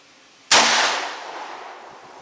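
A single loud, sharp crack from a .44 Magnum revolver firing hot hand loads, followed by a long decaying echo after a brief quiet moment, with no one talking.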